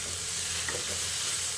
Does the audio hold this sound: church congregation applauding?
no